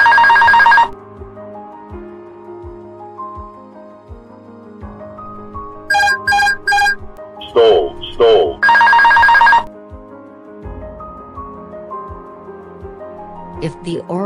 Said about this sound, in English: a damaged angle of attack probe may cause a stall warning to spuriously sound in the cockpit